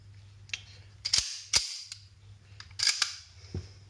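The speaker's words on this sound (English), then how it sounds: "Then you should hear a click, hear it lock." Several sharp, close metallic clicks in irregular succession as a compensator snaps and locks onto a 1911 pistol, with faint handling noise between them.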